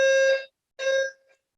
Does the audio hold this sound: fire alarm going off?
yes